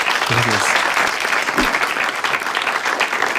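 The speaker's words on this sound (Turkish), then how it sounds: "Mevlüt'e ve Rabia'ya bir alkışlayalım." Studio audience applauding loudly on a Turkish TV talk show, dense continuous clapping close up, with a brief voice calling out near the start and again midway.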